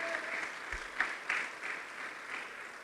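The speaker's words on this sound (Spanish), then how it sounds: "dele fuerte las palmas al Todopoderoso" A church congregation claps hands during worship, a steady, dense wash of applause at moderate loudness that carries on without pause.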